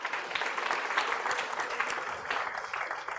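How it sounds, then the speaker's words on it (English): An audience at a public speaking talk claps together in a burst of applause, a close, dense patter of hands that holds steady for a few seconds. "give yourselves a round of applause"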